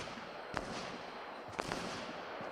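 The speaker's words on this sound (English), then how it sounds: "Especially when you start hearing gunfire in the distance." Two faint, distant video game gunshots about a second apart, sharp cracks with a short tail, over a steady background hiss.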